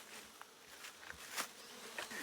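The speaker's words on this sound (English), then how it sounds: "I didn't think there were bees in there." Faint buzzing of bees in the Amazon drifts in and out against a quiet background, with a few soft taps and rustles mixed in.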